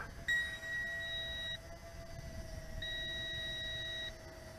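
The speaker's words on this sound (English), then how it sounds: "And the remote is sending out a beep." A drone's remote controller emits steady electronic beeps while the aircraft flies back home on its automatic return, with two long tones separated by a short gap over a faint background hum.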